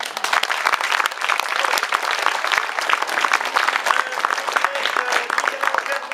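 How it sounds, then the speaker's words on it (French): An audience at an evening village variety show applauds loudly, with dense, sustained clapping that continues steadily throughout and a few faint voices underneath. "Devant tant de talent, on ne peut qu'applaudir."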